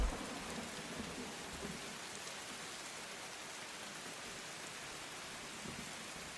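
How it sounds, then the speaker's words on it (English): Steady heavy rain hisses in a storm sound effect, with a dull low rumble of thunder underneath and no voices. "Sounds more like some sort of hurricane."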